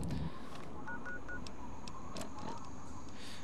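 A holotape note plays in the video game Fallout 3, giving a few short electronic beeps and tones like telephone dialing, faint over a quiet background.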